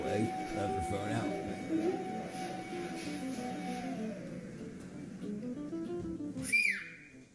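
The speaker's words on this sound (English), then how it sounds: "A woman's whistling to her." A woman's brief rising-and-falling whistle rings out near the end, over an ongoing murmur of voices.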